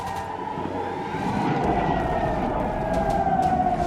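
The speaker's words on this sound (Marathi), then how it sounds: "इस्लामाबाद, कराची, बहावलपूरमध्ये सायरनचे आवाज येत आहेत।" A siren sounding in a Pakistani city during an Indian military strike, a long wailing tone that holds steady and slowly slides, loud and continuous over a dense rumble of background noise.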